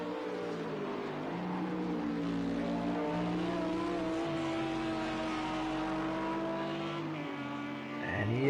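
A Bentley race car in Project CARS 2 holds a sustained, droning engine note at Donington, with the pitch wavering through gear and throttle changes and a sharp rev rise at the end, without commentary.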